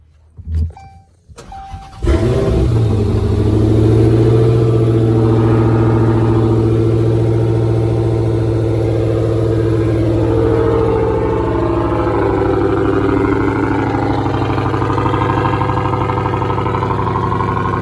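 A Dodge Challenger engine fires up after a couple of seconds of quiet, then runs loud and steady with a deep, throaty rumble that swells and eases slightly.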